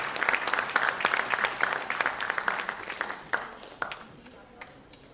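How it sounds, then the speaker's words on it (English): A dance program audience applauds, producing close, dense clapping that is strongest at first and gradually thins into scattered claps, with faint voices underneath. "May we please have a round of applause for Shri Kamaljeet Waingbaum."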